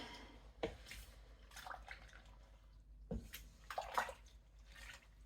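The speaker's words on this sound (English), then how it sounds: "I'm just kind of filling this pot up" Water running into a cooking pot for pressure canning, with splashing, sloshing and dripping and occasional clunks of the pot, faint and nearby with no talk.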